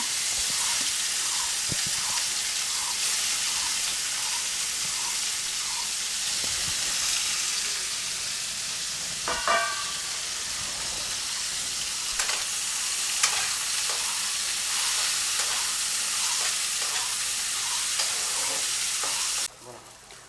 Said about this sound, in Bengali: ওই তেলের মধ্যেই আমি যে করলাগুলো নুন হলুদ মিশিয়ে রেখেছিলাম ওগুলোই ভেজে নেব।